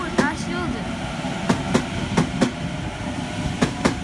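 A train at a station platform clatters past with rhythmic clickety-clack wheel beats over rail joints, paired clicks at a moderate distance under a steady rumble, with a voice speaking.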